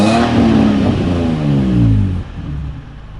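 A Nissan 350Z's VQ35DE engine, now repaired, revs up loudly nearby, its pitch climbing and falling before it drops back to a steady idle.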